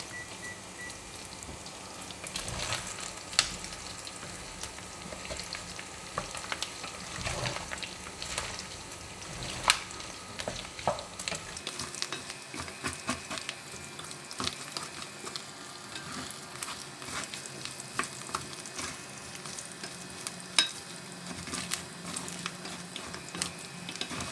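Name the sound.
pork fat frying in oil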